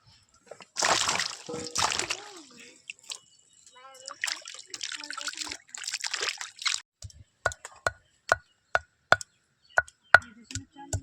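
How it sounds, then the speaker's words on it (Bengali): Cut potatoes are rinsed in water, one by one, in a home kitchen, with brief splashes and sharp knocks. Someone talks at first; then come a run of evenly spaced, close wet hits. "এবার আমি আলুগুলোকে একে একে ধুয়ে পরিষ্কার করে নেব।"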